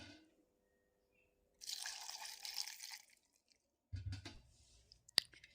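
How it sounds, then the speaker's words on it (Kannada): A little water is poured into a mixer-grinder jar holding green chillies, dry coconut, garlic, ginger, tomato and onion for mushroom sambar, a short splashing trickle followed by soft clinks and a sharp tap of the jar. "ಸ್ವಲ್ಪ ನೀರು ಹಾಕ್ಕೊಳ್ತೇನೆ."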